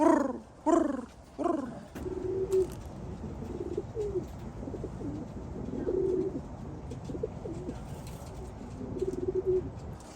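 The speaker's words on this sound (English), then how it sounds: "Pigeons, Pigeon." Pigeons coo softly in repeated low, throaty phrases, with a few louder calls at the start and a faint outdoor background.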